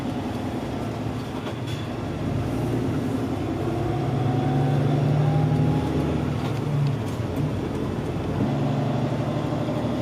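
Inside the cab of a Scania P250 truck with a 6-cylinder 7-litre engine on an Australian road, a steady engine drone and road rumble hold throughout with no one talking.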